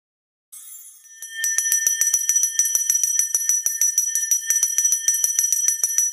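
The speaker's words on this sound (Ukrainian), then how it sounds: "перший дзвоник прозвучить і про початок нового навчального року усіх сповістить" A school's first bell of the new academic year rings loud and alone on the first of September, a steady run of bright metallic strikes after a faint lead-in.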